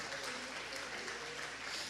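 Audience applauds at a university closing session, a short dense wash of steady clapping from a crowd, fairly distant and even throughout.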